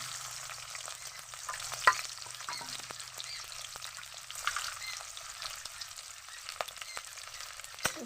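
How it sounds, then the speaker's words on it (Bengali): Dried red chillies and whole spices fry in hot oil in a pan, giving a steady soft sizzle with an occasional clink of stirring, close and alone without talk. "সবগুলো দিয়ে আমি একটু নেড়ে ছেড়ে ভেজে নেব"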